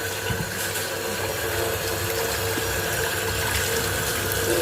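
Flour dough is worked and washed in water while making a vegan kelbon roast, producing a loud, continuous rush of running and sloshing water with faint squelching, steady from start to finish.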